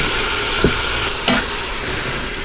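Chicken browns in an Instant Pot on sauté mode, a steady close sizzle of frying with two brief stirring clatters, no voices.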